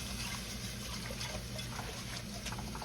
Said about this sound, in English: You're gonna whisk this around.